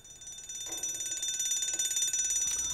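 A bright, rapidly trilling bell rings continuously, metallic and fairly close, like a small ringer buzzing without pause.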